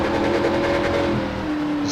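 A race car engine at a 2021 ANZCAR Cup round struggles under load out of a corner, apparently in the wrong gear, giving a steady strained drone with low tonal hum that holds throughout, continuous and fairly loud with no talk.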